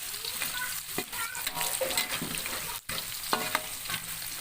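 Jengkol fries in a pan with a steady, dense sizzle, broken by occasional scraping clinks as a spatula stirs it, all close and with no talk.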